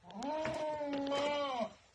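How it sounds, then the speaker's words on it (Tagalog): A goat, a buck being picked up for transport, gives one loud, close, wavering bleat lasting well over a second before falling quiet. "Ayan, pick up tayo ngayon ng kambing."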